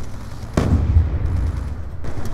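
Burst-fire gun in Call of Duty Black Ops 2 multiplayer on PC, one sharp close report followed by rumbling reverberation and a second softer shot near the end.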